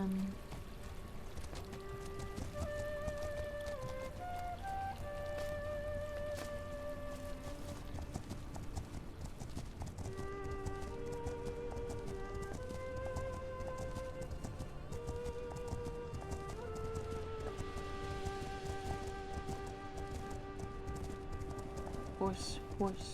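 Horse hooves clip-clop steadily while wading through a river in The Legend of Khiimori, a horse-riding game, set against constant game music with a splashy wash of water behind.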